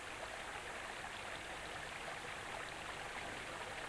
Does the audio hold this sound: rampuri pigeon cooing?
no